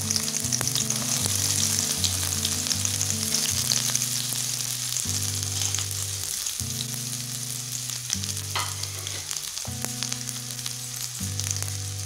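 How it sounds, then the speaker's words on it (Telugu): Onions fry in hot oil in a pan, a continuous close hiss and crackle with occasional stirring, steady and fairly loud under a looping background melody. "ఉల్లిపాయలు బాగా వేగే వరకు వేయించుకోవాలి"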